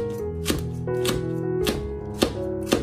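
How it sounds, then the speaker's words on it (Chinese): A knife chops bird's eye chilies into thin rings on a cutting board, five crisp, evenly spaced thwacks ringing out close and clear over a quiet background. "准备一些小米椒把它切成小圈"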